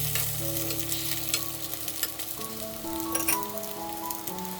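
Pink sausage slices pan-frying on low heat give a steady, even sizzle that stays close and constant, with a few faint tones from the stove area and no voices.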